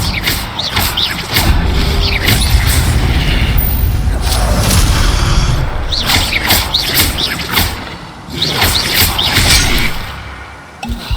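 Incendio fire spell cast repeatedly in Hogwarts Legacy, giving loud close whooshing bursts and booming crackles of flame that recur throughout, mixed with other game effects.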